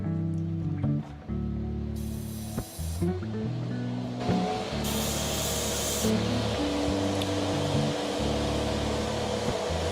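Spray primer hisses onto miniatures in short bursts, a couple of sharp close sprays standing out against a steady hum of background machinery and music.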